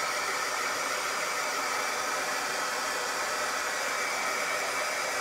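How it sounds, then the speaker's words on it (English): A heat tool blows hot air to dry paint on a patriotic bunting garland, giving a loud, constant hiss-like roar that runs unbroken from start to finish with no talking. "And I'm going to dry this really, really well with my dryer."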